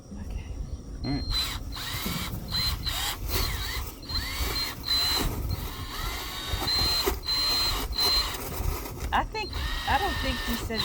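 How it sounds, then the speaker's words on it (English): Clothes dryer running during a dryer vent cleaning, a steady mechanical whir and rattle with intermittent high whines, while people talk nearby. "Then I went inside and turned the dryer on."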